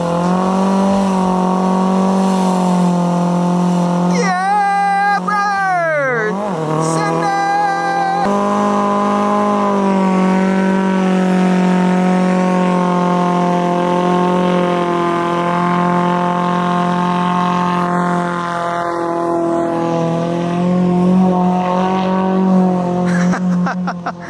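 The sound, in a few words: drift car doing a fat rip, engine revving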